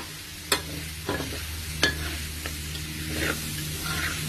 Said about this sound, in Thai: คั่ว ใส่น้ำมันไม่เยอะแล้วก็ ใส่ ซีอิ๊วค่ะ